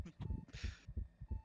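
Heartbeat sound effect in the video game Among Us, a steady thumping double beat repeating about four times with a brief higher burst in the middle, moderately loud and close.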